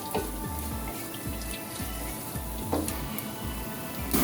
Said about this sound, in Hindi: ज़ीरा और राई और लहसुन ये तीनों साथ डाल देंगे। और इसको अच्छे से फ्राई कर लेंगे।